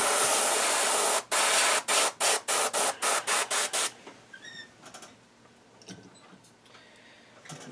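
Pearl gold paint is sprayed onto a trout lure for a cutthroat trout pattern, starting with a loud, steady hiss, then about eight short, evenly spaced bursts, followed by quieter clicks and handling noises.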